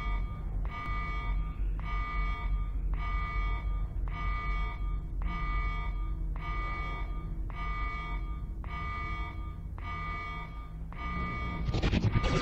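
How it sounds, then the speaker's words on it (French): In the video game Metal Arms: Glitch in the System, an alarm blares in a steady repeating pattern of about ten evenly spaced tonal pulses over a low rumbling background, loud and continuous, ending with a burst of noise. "Alors l'alarme sonne"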